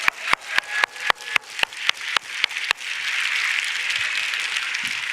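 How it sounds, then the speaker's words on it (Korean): A church congregation breaks into applause, first as about ten sharp, evenly spaced claps, then as a dense, sustained wash of clapping from the whole crowd. "다시 한번 감사의 박수를 올려드리기 바랍니다."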